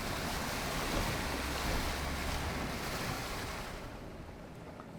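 A full creek over a stone or concrete bottom, steady broadband rushing of flowing water heard close and unbroken, easing slightly toward the end, with wind noise mixed in.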